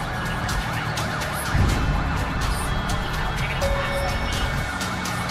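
A police siren cycles through rapid wails amid traffic noise, moderately loud, with a brief rumbling burst of passing vehicle noise partway through.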